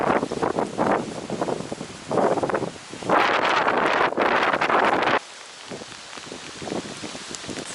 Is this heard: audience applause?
no